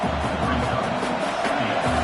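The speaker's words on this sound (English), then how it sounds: "This crowd bringing the energy and noise early." A football stadium crowd at a Tigers versus Pack game keeps up a steady, loud roar of cheering and broad crowd noise through the whole stretch, with no single voice standing out.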